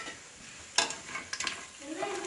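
Whole biryani spices hit hot oil for a restaurant-style vegetable biryani, giving a brief crackling sizzle with a few sharp stirring clinks and spits over a soft frying hiss.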